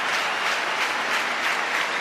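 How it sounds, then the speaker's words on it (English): A big stadium crowd at a Sweden versus England friendly football match in 2012 applauds and roars in a broad, sustained wash of clapping and cheering that holds steady and loud throughout, with no individual voices standing out. "Crowd as animated as they've been at any stage during the evening."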